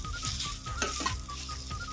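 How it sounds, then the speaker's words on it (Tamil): Spices, cashews and curry leaves sautéing in a pan, a soft steady sizzle broken by a few sharp scrapes and stirring clicks, close and fairly quiet. "நல்லா வதக்கி விட்டுக்கலாம்."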